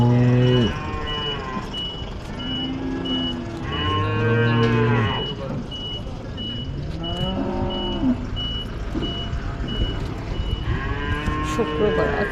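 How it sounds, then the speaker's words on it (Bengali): Several cows mooing at a roadside cattle market, long deep calls repeating every few seconds close by, with steady vehicle noise and a faint electronic beeping in the background. "এই যে দেখেন গরু বাজে, গরু বেঁধে রেখেছে।"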